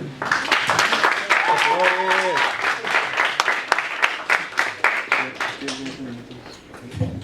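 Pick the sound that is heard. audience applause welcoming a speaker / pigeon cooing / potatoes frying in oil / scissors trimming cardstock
audience applause welcoming a speaker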